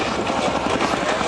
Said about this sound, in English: Once again, a handful of power, that helicopter working very hard indeed.